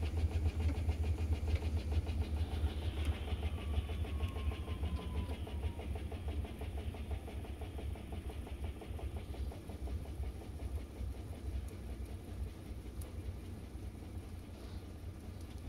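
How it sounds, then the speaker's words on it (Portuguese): A Panasonic Ag+ 16 kg washing machine spins at 590 RPM mid-cycle, producing a steady low rumbling hum with a fast pulsing texture, constant and moderately loud throughout. "Por mais que ela centrifugue a 590 RPM, já é alguma coisa."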